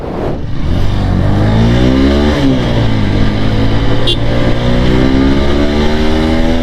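A TVS Apache RTR 160 4V motorcycle engine revs up loudly and close in first gear, the pitch climbing steadily, dropping briefly, then rising again.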